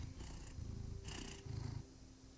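A cat in the video game Cabernet purrs as it is petted, giving soft, close, rhythmic purr cycles that swell and ease in regular pulses.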